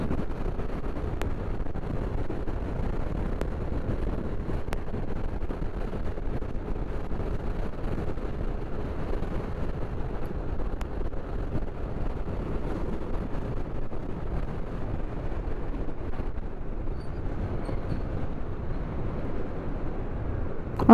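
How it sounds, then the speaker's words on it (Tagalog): Heavy wind buffets the microphone with a constant low rumble and roar, broken only by a few faint clicks. "ang lakas ng hangin ah."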